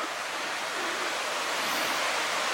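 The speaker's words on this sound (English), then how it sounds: "This is the creek that I called Double Head Ravine Creek." A creek flows through a ravine near Goldstream, a steady, dense rush of water that fills the whole moment evenly without pauses or other sounds.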